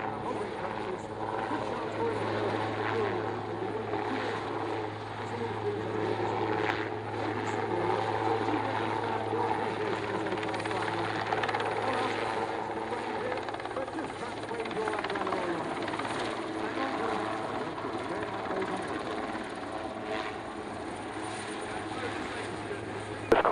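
A Swiss Cougar helicopter drones steadily at a distance during an airshow display, its rotor thrum and engine whine holding constant as it hovers, with no speech.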